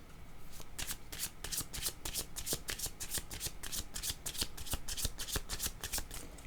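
Tarot cards are shuffled close by in a rapid run of crisp riffling flicks that keeps going steadily for several seconds, with no voice over it.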